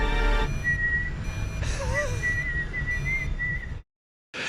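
A person whistles a wavering, sliding tune over a busy background, the melody rising and falling before everything cuts to silence near the end.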